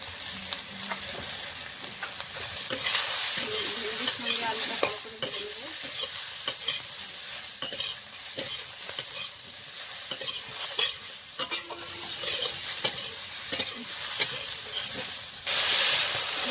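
Steady sizzling and crackling of potato and okra frying in a pan, with occasional stirring scrapes and clinks, no voices.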